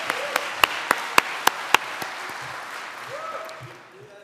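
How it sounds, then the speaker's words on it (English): Audience applause for a presenter at a PyScript and Python-in-the-browser tech talk, a handful of sharp individual claps over a broad crowd clapping wash that tapers off, with some voices in the room. "Please give Antonio a round of applause"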